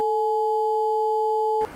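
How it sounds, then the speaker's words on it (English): Two steady pure electronic tones sounded together, one lower and one higher, holding loud and unchanging for over a second and a half before cutting off abruptly, with no voices. "Event of a tone of a lower frequency when two tones are sounded together."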